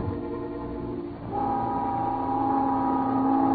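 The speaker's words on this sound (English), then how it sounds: "the noon whistle blew somewhere in New York" A city noon whistle sounds in an old-time radio detective drama, a steady tonal blast rising after a brief low murmur and holding loud and sustained to the end, with no voices.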